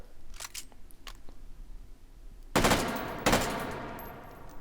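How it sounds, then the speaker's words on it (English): FAMAS rifle fired in a VR shooting game: two sharp, loud broadband bursts about a second apart after quiet handling noises, each trailing off in a ringing decay. "shoot this gun off a little bit more"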